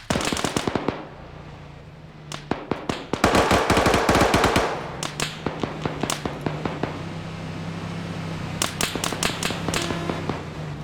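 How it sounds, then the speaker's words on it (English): Machine gun fire in a military video game, sharp, clattering bursts of rapid shots, including one long dense burst in the middle and scattered single cracks later, fairly close and loud. "Trying to machine gun this guy?"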